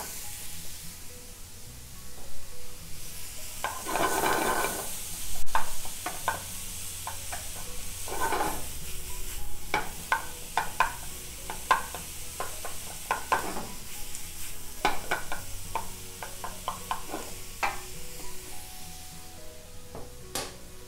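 Shrimp and clams cooking in a hot pan give a soft sizzle, broken by frequent clinks and scrapes of a utensil stirring and a few louder hissing bursts.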